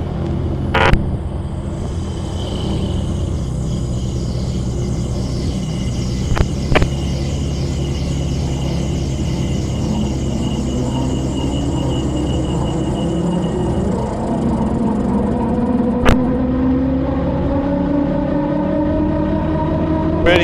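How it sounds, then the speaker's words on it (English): A gyroplane engine runs steadily at about a thousand RPM with the pre-rotator engaged, a continuous droning hum with a slowly rising whine as the rotor spins up, with a few brief clicks and knocks. "and pre-rotator engaged."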